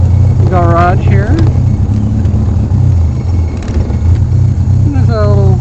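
A 1956 Morgan Plus 4 is driven into a garage: its engine holds a steady, deep low rumble, while a voice talks briefly over it near the start and again at the end.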